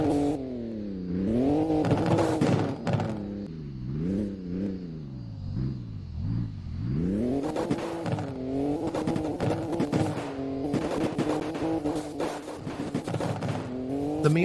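Nissan Skyline R32 engine revs loudly and repeatedly nearby, rising and falling in sweeping blips, dropping low mid-way before surging again in sharp, aggressive bursts.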